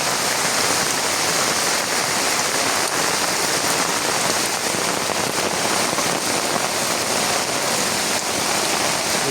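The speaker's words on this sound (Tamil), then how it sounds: "எப்படி அடமழை பெஞ்சிருக்கேன்னு பாருங்க" A downpour drums without pause across flooded ground by a temple and nearby houses, loud and close, a thick unbroken wash of rain hitting water and hard surfaces.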